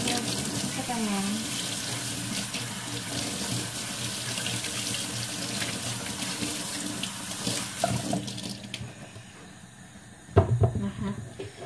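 Water runs steadily from a kitchen sink tap while something is washed, a loud continuous rushing hiss that cuts off near the end, followed by clatter and a knock of objects in the sink, with someone talking faintly underneath.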